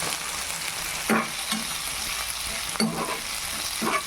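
Peanuts and garlic fry in a pan with a steady close sizzle, and a spoon stirs and scrapes at intervals with a few louder knocks.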